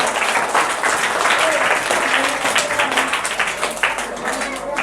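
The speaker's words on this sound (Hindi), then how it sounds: "इनके लिए एक बार जोरदार ताली बजाएं।" An audience at a Teachers' Day celebration breaks into loud, sustained applause, with dense clapping that holds steady for several seconds before easing slightly.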